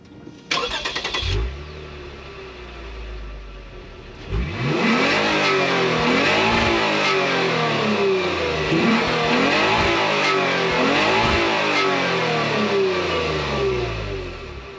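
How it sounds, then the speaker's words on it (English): A 2024 Lexus RC 350 F Sport coupe's V6 cranks and catches with a short burst, goes quiet briefly, then fires and revs repeatedly in loud, rising and falling sweeps close to the microphone. "I'll fire it up so you guys can hear how it sounds real quick."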